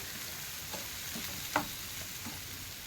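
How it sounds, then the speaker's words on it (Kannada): Potatoes frying in a pan for vada pav, giving a steady, even sizzle throughout with one brief clink or stir near the middle. No voices. "ಹಾಗಾಗಿ ಸ್ವಲ್ಪ ಫ್ರೈ ಮಾಡ್ಕೊತೀನಿ"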